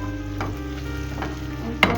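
Minced meat with chili and turmeric fries in a pan, a loud steady sizzle broken by a few scraping stirs, with a sharper clatter of the spoon near the end.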